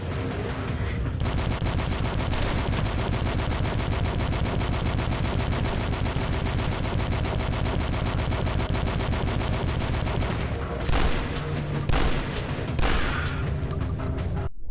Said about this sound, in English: let's go assault rifle on these guys